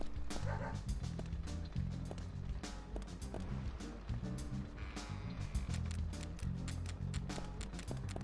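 A dog in the video game Deadly Premonition barks repeatedly in short, irregular bursts, accompanied by game sound effects and some quiet talk.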